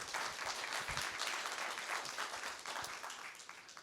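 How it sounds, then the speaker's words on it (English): A conference audience at a digital public infrastructure summit session claps together, a soft, even wash of many hands heard at a distance with no voices over it. "can we give kind of a round of applause"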